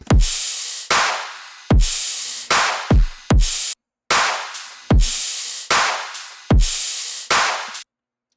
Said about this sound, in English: So all together, our drums sound like this.